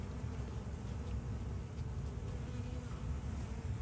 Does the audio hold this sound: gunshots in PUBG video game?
no